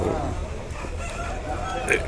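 A rooster crows briefly at a busy country market for native chickens in Nallapadu, the call rising near the end above a steady wash of crowd murmur and voices.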